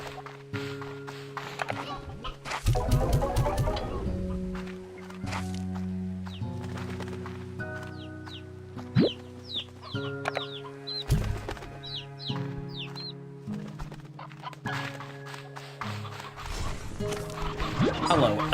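Hens clucking in the video game Slime Rancher 2, short scattered chirpy calls over a layered game soundtrack with music and sound effects, with a voice talking at times.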